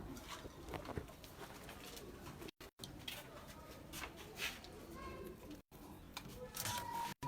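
Pigeons in a breeder's loft, including a Teddy cock and a red pari hen, give soft repeated coos and rustles close by, with brief clicks and short dropouts breaking the sound.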